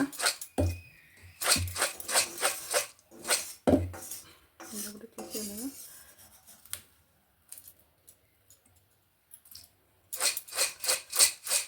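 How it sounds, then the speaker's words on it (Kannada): Avarebele mixture, a crunchy fried snack, is tossed and stirred in a metal bowl, giving bursts of rattling, crackling clatter in rhythmic strokes, with a pause of near silence before the mixing resumes; a voice speaks briefly in between. "ಇದನ್ನು ಇವಾಗ ಚೆನ್ನಾಗಿ ಮಿಕ್ಸ್ ಮಾಡೋಣ"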